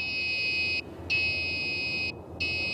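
Loud, steady electronic beeping tone from an obstacle sensor detecting something about a foot away, sounding in three long bursts separated by brief gaps, close by.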